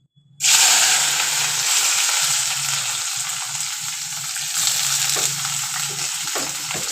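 Green beans drop into hot oil in a kadhai and burst into a loud, steady sizzle right after a brief silence, with a low hum underneath and occasional stirring knocks, no one speaking.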